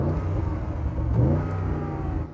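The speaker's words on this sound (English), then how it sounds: "if you're stationary and you want to rev it to explain to viewers what it sounds like" An Audi RS Q8 with a sports exhaust revs while standing still, a loud, steady engine roar that swells briefly in the middle and holds against a soft limiter, with no talking.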